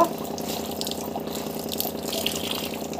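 Water in a pot starting to boil while soaked rice is prepared for papad, a steady bubbling hiss with faint crackles, continuous and close, without talk.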